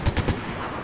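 Three quick, close gunshots from a revolver in Fortnite thud out in a rapid rhythm, then fade into low background noise.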